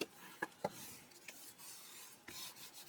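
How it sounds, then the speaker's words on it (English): Paper in a scrapbook album is burnished by hand in short rasping rubs and a few sharp taps, quiet and close, with no voices. "burnish it really well, like so"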